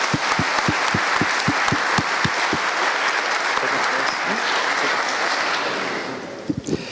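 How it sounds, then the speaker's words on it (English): A conference crowd at a security event's closing ceremony applauds prize winners, a few loud, evenly spaced claps close by standing out over dense clapping that gradually fades, with faint voices near the end. "So give them a round of applause."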